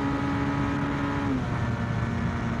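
A Honda VFR 1200 Crosstourer V4 motorcycle accelerates, its engine droning steadily with a tone that drops partway through, under constant road and wind noise.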